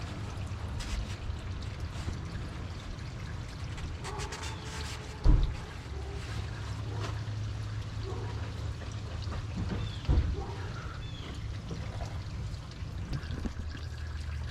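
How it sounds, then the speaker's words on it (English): Fuel draining and dripping from the fuel filter of a Ford F250 pickup, a soft continuous trickle with faint drips and two brief bumps over a low steady hum. "So this fuel is just draining and dripping on me."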